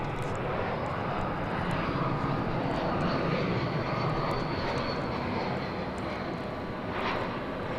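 An American Airlines airliner arrives at Dallas Fort Worth Airport at night, its engines giving a loud, steady roar that fills the whole stretch with broadband rumble and no clear talk.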